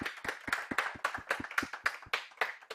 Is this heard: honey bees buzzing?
no